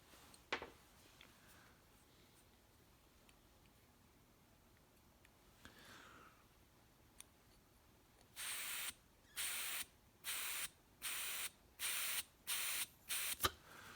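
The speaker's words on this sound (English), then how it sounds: "push down on this little pin right here, and you'll hear the gas flow starting and stopping" A faint pop and quiet rustles, then a run of loud gas bursts hissing on and off through an oxy-fuel regulator valve in a steady rhythm, about six short spurts close by.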